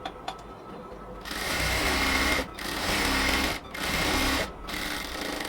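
A sewing machine stitching a roughly two-inch fabric border on a baby palazzo, running in three close bursts of steady rapid whirring separated by short pauses, loud and alone.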